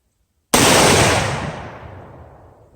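A single loud rifle shot at an outdoor shooting range, fired through a rifle fitted with a Swampfox Tomahawk 1-8x scope, with a sharp onset and a long fading echo that rolls away over about two seconds.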